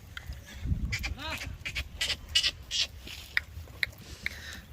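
A large goat at a livestock market bleats once loudly and near, followed by scattered animal calls and busy market bustle with people talking nearby.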